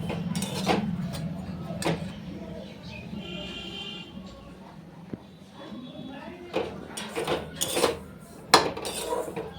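Semolina being dry-roasted and stirred in a pan, with intermittent clinks and scrapes of a spoon against metal at an irregular rhythm, quiet background between strokes and a voice talking at times.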